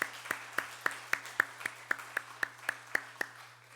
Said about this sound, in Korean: 교회 성도님들께 우리 감사의 박수를 한번 하겠습니다